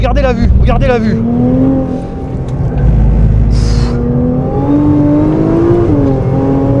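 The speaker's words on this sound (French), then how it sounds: "une GTR c'est violent" Nissan GT-R accelerating hard, with a loud rising engine note building through the gears and a brief whoosh midway, while people talk excitedly over it.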